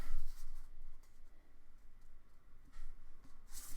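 Paper being torn slowly by hand, trying to get a straight edge, a continuous close rasping rip with a few louder swells, heard alone without talk.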